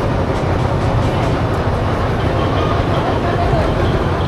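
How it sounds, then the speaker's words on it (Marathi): A Mumbai local train runs with a steady, loud rumble and rattling carriage noise that holds evenly throughout, with no break or pause. "मुंबईचा लोकल ट्रेन आहे वाटतं"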